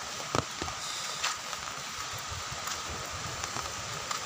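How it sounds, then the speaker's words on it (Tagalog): Soft, steady patter of light rain with a few sharper drip taps scattered through, no voices. "medyo ulan"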